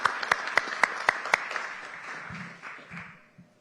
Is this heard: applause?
yes